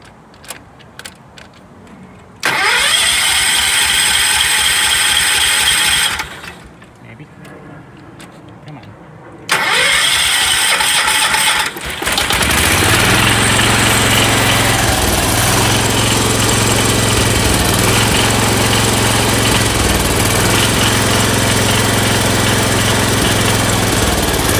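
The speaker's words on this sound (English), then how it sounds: "I still got to adjust the high speed, but it should start right up." A John Deere 314 garden tractor engine with its choke set cranks in two bursts of several seconds each, then catches and runs loudly and steadily with a rough, pulsing idle close to the microphone.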